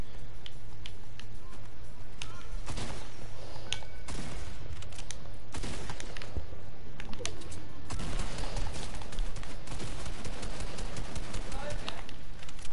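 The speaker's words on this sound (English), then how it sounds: "I'm for sure being shot at." Rapid gunfire in a Roblox game played on PS4 crackles continuously in dense bursts, loud and close, with a player talking over it.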